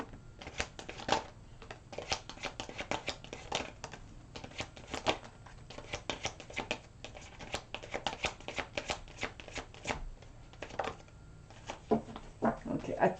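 A deck of tarot-style playing cards shuffled and handled up close: rapid papery flicks and riffles in dense bursts, with light taps of cards being laid down and a soft voice murmuring now and then.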